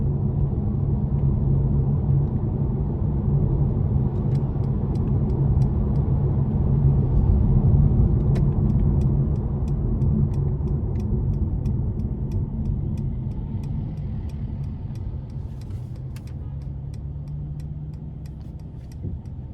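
Inside the cabin of a 2018 Mercedes-Benz C43 AMG coupe under throttle with a sport exhaust in comfort mode, a muffled, steady low engine rumble drones on with faint ticks, easing gradually toward the end.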